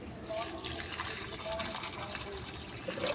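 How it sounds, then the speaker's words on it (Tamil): Half a cup of water mixed with onion and garlic peel fertilizer is poured onto a potted flowering plant, giving a steady close splashing trickle throughout, while a voice talks faintly beneath it. "1/2 கப் தண்ணியை இந்த செடிக்கு ஊற்றுறோம்."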